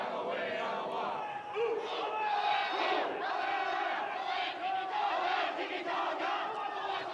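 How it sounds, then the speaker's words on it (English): Teams chanting and cheering together at a national championship quidditch match, loud rhythmic crowd shouts and battle-cry voices rising and falling over several seconds, with some overlapping chatter. "Teams getting their cheers on."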